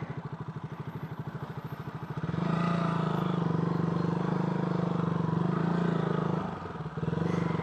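A motorcycle ridden solo over a slippery, rough mountain road chugs at low speed, then its engine note rises into a steady, loud drone with some clatter, briefly dipping before picking up again.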